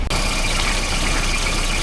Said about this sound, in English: I don't love how this car is idling right now.